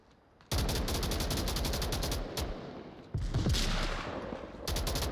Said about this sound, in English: Nades, pre-fire shots coming in.